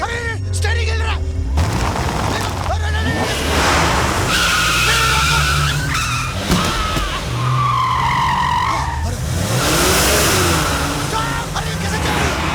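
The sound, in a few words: car skidding out of control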